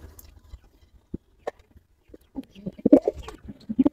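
Giribaz pigeons coo softly in sparse, intermittent calls, with a few faint clicks and shuffles between them. The calls cluster and grow louder toward the end.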